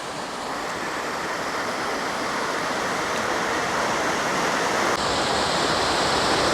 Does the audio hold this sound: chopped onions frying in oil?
no